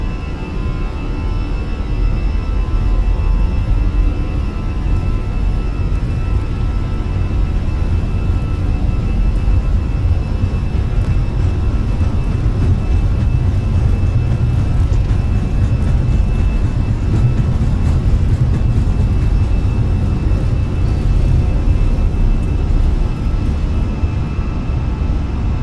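Airliner jet engines on TAP flight 1924 at takeoff thrust, a steady loud roar dominated by low rumble with a faint high whine, unbroken for the whole stretch.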